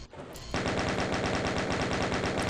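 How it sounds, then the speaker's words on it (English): Rapid automatic fire from a chain gun in the video game Doom, a loud, dense, evenly spaced stream of shots that starts suddenly after a brief quieter moment and carries on without pause. "We haven't used our chain gun at all"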